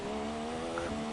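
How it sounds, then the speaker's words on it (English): An electric single-seater in the ERL F3 series races in Brazil, its high steady electric whine carrying briefly and moderately loud as it slows into a braking zone. "It's obviously braking nice and cautious."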